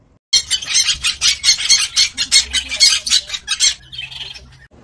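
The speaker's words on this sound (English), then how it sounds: "P for parrot." A parrot gives a rapid run of loud, harsh squawks in close succession, near and alone, trailing into a softer call at the end.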